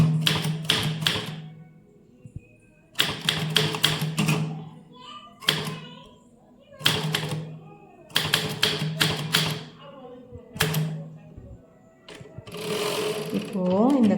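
Manual typewriter typing out a memorandum letter: rapid clattering bursts of keystrokes, separated by short pauses, with a voice talking between the bursts.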